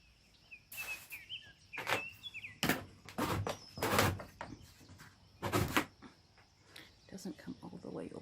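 A garden door in a secret garden is pushed open in a series of sharp knocks, bumps and scrapes, with crickets chirping and a bird calling softly in the background.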